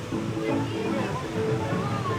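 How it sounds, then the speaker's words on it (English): Rushing water feeding the Congo River Rapids ride at Alton Towers' Katanga Canyon, a constant loud splashing, sloshing flow close by, with voices faintly mixed in. "And this is the water what feeds the River Rapids"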